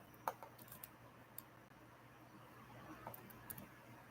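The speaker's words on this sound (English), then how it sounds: "And our email address, I'm going to type it" An email address being typed on a computer keyboard, heard as a few scattered, faint key clicks against a low steady hum, with long gaps between the taps and no talking.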